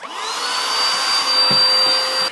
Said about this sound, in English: And while I take a look at it, you know what I'm going to do? I'm going to vacuum it.